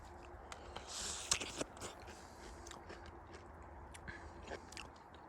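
Biting into a large, juicy white-fleshed peach gives a crisp bite, then soft, wet chewing and smacking up close, fairly quiet and without talking.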